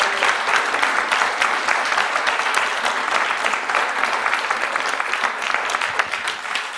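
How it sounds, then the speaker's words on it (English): Audience at a climate action event gives a round of applause, a continuous, fairly loud patter of many hands clapping that holds steady throughout with slight fluctuations. "can we just have a round of applause for these three global thinkers?"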